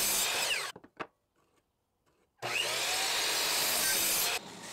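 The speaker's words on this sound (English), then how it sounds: "I used the table saw to resaw the piece I had left into a thinner strip" A table saw resaws a wooden board into a thinner strip, with a dense, loud cutting roar in two passes separated by a quiet gap with a few knocks as the board is flipped.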